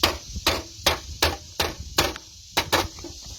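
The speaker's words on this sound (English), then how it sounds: "push it down nice and tight, and finish that bend by just smacking it" Hand smacking bent metal roof flashing near a chimney, a series of about seven sharp, close metallic whacks at a steady, somewhat irregular rhythm, loud with short gaps between.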